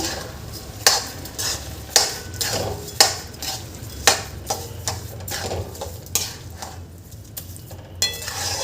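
A spoon stirs carrots and mashed khoya in a pan for carrot halwa, making regular scraping knocks about once a second against the metal over a soft sizzle, close and fairly loud.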